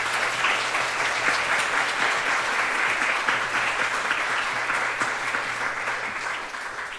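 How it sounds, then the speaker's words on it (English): Audience in a town hall applauding an author talk panel, a dense, steady wash of clapping that holds for several seconds and tapers slightly at the end. "Please give a huge round of applause to our incredible panel."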